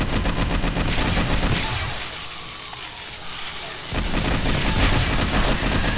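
Heavy, rapid gunfire from a hard-recoiling gun in 7 Days to Die, loud continuous bursts that pause for about two seconds in the middle, then resume at full intensity.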